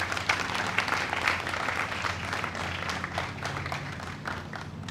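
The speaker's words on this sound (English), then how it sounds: "So I think they deserve a big round of applause." An audience applauds at a vaccination launch event, giving a dense, steady wash of clapping that stays fairly loud throughout with no talking.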